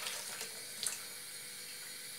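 Courgette flowers rinsed under a running kitchen tap over a bowl, a steady close hiss of flowing water that stays level throughout with one brief splashy spike.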